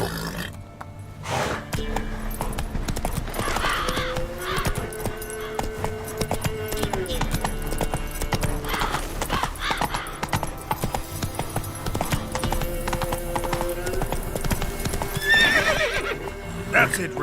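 Roach the horse gallops with steady clip-clop hoofbeats and repeated neighs and whinnies in The Witcher 3, set against a constant game soundtrack and effects, with a person talking over it at times.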